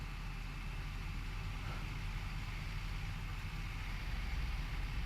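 A simulated Boeing 737 engine running in X-Plane 11, a steady, low, even hum with a constant whine, fairly quiet and unbroken throughout.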